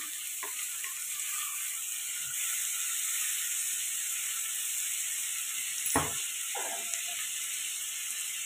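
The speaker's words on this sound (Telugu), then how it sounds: "ఇప్పుడు బాగా కలుపుకొని ఈ టమాటా బాగా మగ్గిన దాకా ఫ్రై చేసుకుంటాం" Tomato pieces fry in a pan at steady, moderate volume, a broad unbroken sizzle running from start to finish, with a few brief clinks of a utensil near the middle.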